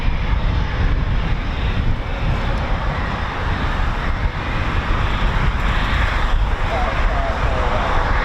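A Eurofighter Typhoon FGR4 jet taxis at an RAF station, its engine a broad, steady roar mixed with wind buffeting, loud and continuous throughout.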